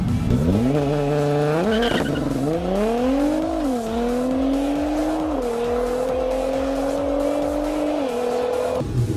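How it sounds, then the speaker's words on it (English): A Nissan GT-R all-wheel-drive car does a launch control acceleration run, its engine roaring loudly and close as pitch climbs through repeated gear changes, with a brief tire squeal near the start. "All-wheel drive plus launch control allow you to do consistent acceleration runs that will permanently shift organs to the back of your body."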